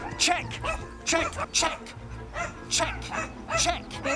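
A dog barks in repeated bursts on an agility course, the sharp yips and woofs coming close and loud while a handler talks over them.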